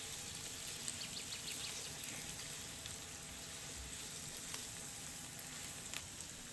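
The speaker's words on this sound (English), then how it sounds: "Now add them to the pan and let them cook." Tomatoes cooking in a pan, a faint, steady sizzle with soft crackles throughout and no talk.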